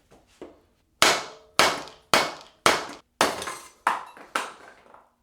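Sharp metallic hammer blows strike seized spacer rings on a mountain bike, about eight loud ringing impacts at a steady pace, each decaying quickly, close up with no talk.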